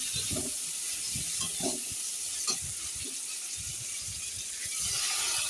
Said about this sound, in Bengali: সেই আলুটা দিয়ে সেই মশলার সঙ্গে ভালো করে কষে নিচ্ছি